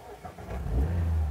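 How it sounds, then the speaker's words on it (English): A 2023 Mazda MX-5 roadster fires up, its engine catching after a few soft mechanical clicks and swelling into a low, burbling exhaust rumble that settles into a steady idle, close and clear. "savour the burbling exhaust melody"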